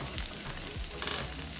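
Thin onion chili rava dosa frying on a non-stick pan, a steady close sizzle with faint crackle, no voices.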